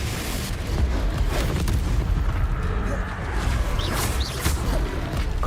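A fiery Confringo explosion spell cast in the Hogwarts Legacy game: a continuous roaring, rumbling blast with crackling bursts and low booms throughout, with faint game sounds scattered on top.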